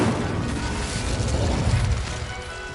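Incendio fire spell cast in Hogwarts Legacy, a dense roaring whoosh of flame with a rumbling, booming body, loud and sustained for a couple of seconds before easing slightly.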